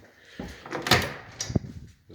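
A door to a big walk-in closet and storage area in a home is opened, giving a few soft knocks and a brief creak, then a sharper low thud near the end; no talk is heard.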